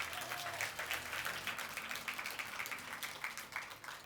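A large crowd at a guru's outdoor religious talk applauds steadily, a dense, somewhat distant clapping that carries on evenly for several seconds without speech.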